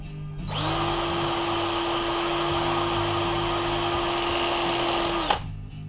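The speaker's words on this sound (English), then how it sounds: "I'm using this like a milling bit." A power drill driven as a milling tool, cutting open a channel in metal on a drift trike's hand-control setup, whines loudly and steadily for about five seconds before stopping abruptly, with no one talking.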